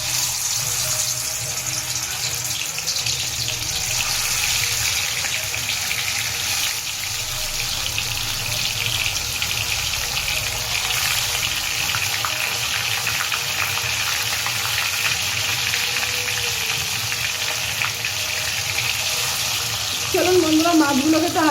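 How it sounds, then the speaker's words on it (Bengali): Fish frying in hot mustard oil in a wok gives a steady, loud sizzle that runs unbroken through the whole stretch, with no talk over it. "এবার আমরা মাছগুলো ভেজে নেব।"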